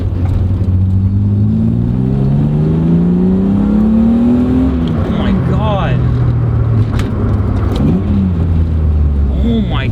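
A BMW E36 M3 with an aFe intake accelerating onto a highway, heard from inside the car as a loud engine note rising steadily in pitch, then dropping at a gear change and climbing again, with brief talk over it.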